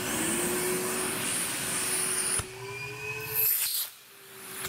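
A MetroVac vacuum cleaner with two motors running in tandem, a steady whining hum with a high pitched tone that drops abruptly partway through, then surges briefly before fading.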